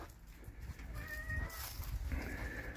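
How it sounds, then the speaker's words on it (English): A cat meows twice in short, tonal calls, fairly close and moderately loud, against low background rumble in a yard among old Mustangs and classic cars. "The cat agrees."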